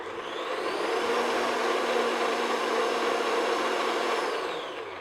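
An electric mixer beats vanilla extract into cake doughnut batter, a steady close whirring motor hum that ramps up, holds evenly for several seconds and winds down at the end, with no talking.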